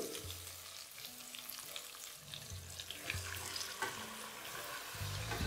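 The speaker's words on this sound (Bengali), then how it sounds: "এবার এখানে দিয়ে দিন ম্যারিনেট করে রাখা ফুলকপিগুলো।" Marinated cauliflower florets frying in a pan over low flame after ginger and garlic, a continuous soft, even sizzle with faint stirring, quiet and close, no talking.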